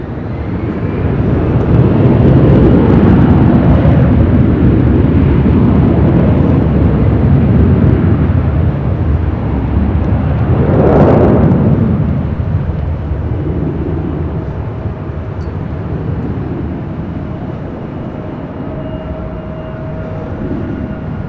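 Jet airliner taking off at LAX, a loud roaring rush that swells to a peak and then fades as it climbs away, with broad rumbling noise throughout.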